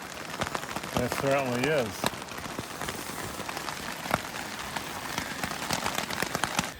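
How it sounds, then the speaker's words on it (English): Heavy rain falling beside a river, a dense steady patter and hiss throughout, with a voice speaking briefly early on over the downpour. "still raining harder now."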